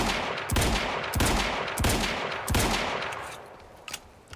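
Automatic gunfire from a machine gun in the video game Quantum Break, loud close bursts repeating roughly every 0.7 seconds for about three seconds, then fading to scattered faint shots.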